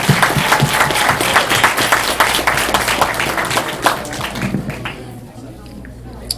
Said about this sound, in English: give yourself a round of applause and give applause to every single person who volunteered for this campaign